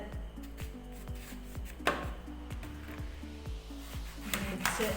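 A knife trims and cuts bitter lemon on a board for pickle, producing a quick, regular series of close, crisp chopping taps.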